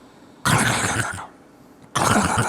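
A voice imitates the clattering valves of a motorcycle engine being lugged at low RPM, producing two loud, abrupt bursts of rough rattling noise separated by a short pause.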